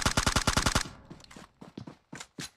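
A rapid burst of automatic gunfire in PUBG Mobile, about ten sharp shots in quick rhythm, followed by scattered softer thuds and clicks.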